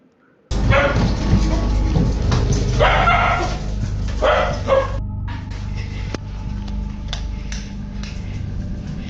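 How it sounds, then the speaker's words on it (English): A dog barks and yips repeatedly from a played video, the loud barks coming in bursts with whimpering between them, followed by a quieter stretch with background noise. "The only reason the dog was barking is because she was making noise."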